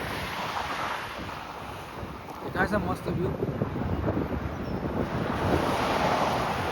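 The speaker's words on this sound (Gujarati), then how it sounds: "પવન એટલો આવે છે ને તો બહુ હલે છે." Strong wind buffets a microphone on a long bridge leading to Prince Edward Island, Canada, a steady loud rushing roar throughout with a person speaking briefly partway through.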